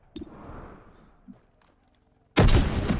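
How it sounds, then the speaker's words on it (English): A shotgun in the XCOM 2 video game fires in a sudden loud blast that booms and rumbles on after a stretch of quiet, softer in-game clatter, with no talking. "That's a loud shotgun."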